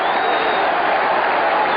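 A football crowd at a 1989-90 league match involving West Ham United and Barnsley applauds a goal, a steady, dense wash of clapping and crowd noise that fills the whole stretch without pause.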